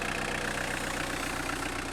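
The 1.9 turbodiesel engine of a 1993 Citroën ZX Volcane idles steadily, a continuous low rumble with an even, slightly rattling rhythm, close and fairly loud throughout.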